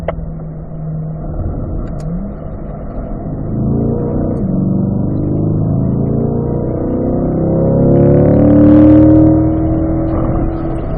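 A race car on a track session powers out of a corner, its engine climbing through a rising, loud, close rev as it accelerates, the note sweeping upward steadily with no talk.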